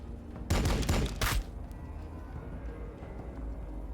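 Gunfire from squads trading shots in the Warhammer 40k Battlesector strategy game: two loud bursts of rapid fire in quick succession, then a low background rumble.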